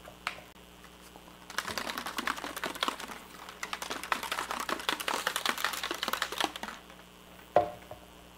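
A spoon stirring a protein supplement blend in a cup, a steady quick run of light clinking taps lasting several seconds, then one louder knock near the end.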